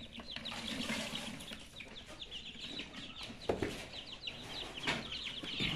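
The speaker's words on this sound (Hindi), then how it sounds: "इधर छत के ऊपर चूजों को" Chicks on a rooftop cluck and chirp steadily as grain is scattered for them. The dense, overlapping calls sound close and carry on throughout.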